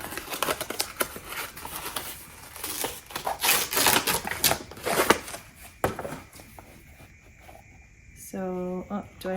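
Cloth-like wrapping paper crinkles and rustles loudly up close as a Hermes Kelly 28 bag package is opened, with bursts of handling noise, then a voice speaks at the end.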